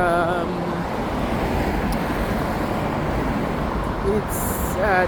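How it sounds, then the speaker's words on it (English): Steady roar of heavy traffic on a busy road in Leith, Edinburgh, with cars and buses passing close by in a continuous dense wash of engine and tyre noise, a brief higher whine near the end. "There are a lot of cars. It's a busy road"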